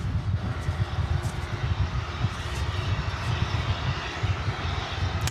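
An airliner at DFW Airport gives off a continuous, moderately loud engine rumble with a pulsing low roar that stays level across the short stretch, with no voices.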